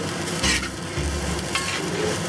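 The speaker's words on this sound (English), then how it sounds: "Okay, we're gonna give it a toss." Fried rice with shrimp sauce and minced pork tossed and stirred in a hot oiled pan, a steady close sizzle with a couple of brief scraping swells, no voices.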